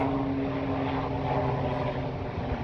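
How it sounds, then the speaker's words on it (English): A helicopter drones overhead, a steady low rotor and engine rumble that stays loud and close throughout, with no speech. "Just gotta let that helicopter go past."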